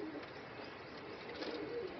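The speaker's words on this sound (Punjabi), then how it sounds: "ਆਇਆ ਇਹ ਬੜਾ ਚੰਗਾ ਕਬੂਤਰ" Pigeons coo softly in a short, low, muffled murmur that carries steadily through a quiet background.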